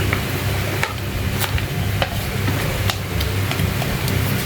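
White onions hit a hot frying pan for pork dinakdakan and sizzle steadily and loudly up close, with occasional sharp clicks of a utensil stirring through.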